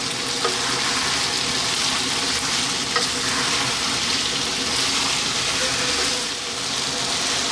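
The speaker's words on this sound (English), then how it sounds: "now we have the potatoes and we're gonna put it in" Potatoes fry in a curry pan on high heat, giving a dense, continuous sizzle with faint stirring, steady and close throughout, with no voices.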